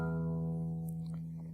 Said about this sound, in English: so let's play string 6.